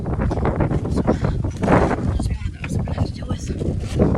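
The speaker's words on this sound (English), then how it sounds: "I didn't realize the wind was going to pick up like this already" Heavy gusting wind buffets the microphone in loud, rumbling bursts on a rooftop, with speech partly buried underneath.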